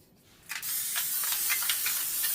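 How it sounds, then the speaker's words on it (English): Cooking spray hissing from an aerosol can into a cake pan for a devil's food cake, a steady close spray after a short start, with bursts of pulsing texture. "So let's spray our pan."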